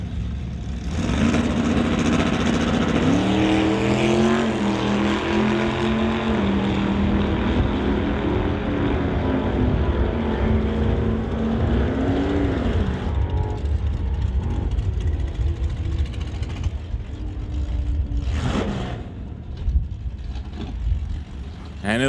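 Drag racers launch at an NHRA Summit ET Series event, a wheel-standing Barracuda against an S10, their engines roaring loud and steady as the revs rise and fall, with an announcer speaking over them.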